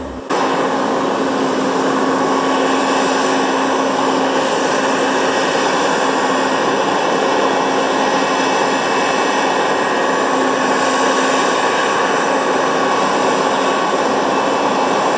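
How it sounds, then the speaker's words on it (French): Roughly 20-tonne combine harvester working a steep field, a loud, steady droning roar of engine and machinery with a constant whine, close and unbroken throughout. "La moissonneuse est plantée dans le mur."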